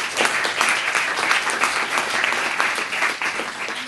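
An audience at an academic lecture on ethics and pandemic control breaks into warm, steady applause to welcome the speaker, a dense even clatter of many hands filling the room for several seconds.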